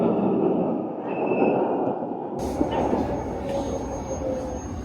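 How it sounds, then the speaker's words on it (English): Budapest's small yellow city tram rolling along, a steady low rumble of wheels and motor with a faint high whine, running continuously and fairly close. "So we just got one of these cute little yellow trams."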